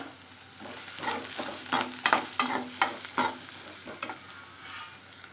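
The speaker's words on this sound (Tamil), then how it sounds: "கடுகு பொரிஞ்ச உடனே இந்த வெங்காயத்தையும் சேர்த்துடலாம். வெங்காயம் போட்டுட்டு நம்ம வந்து நல்லா வதக்கிக்கலாம்." Onions sautéing in oil in a pan after mustard seeds have spluttered, a close hiss of frying overlaid by a quick run of rhythmic stirring scrapes that ease off toward the end.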